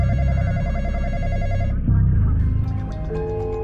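A telephone rings loudly and steadily for under two seconds, then cuts off into a low rumbling ambience with faint tonal sounds.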